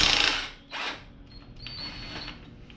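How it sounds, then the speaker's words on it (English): A ratchet works on the wheel nut of a Honda XR100R pit bike, giving short mechanical clicking and rasping bursts close by, with a brief thin metallic squeal toward the end and no talking. "take this wheel nut off"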